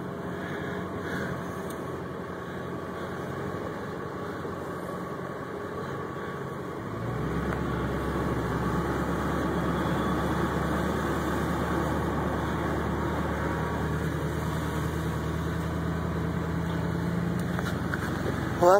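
A car engine idles quietly with a steady low hum and road rumble, growing slightly fuller partway through as the vehicle creeps along slowly, with no talk.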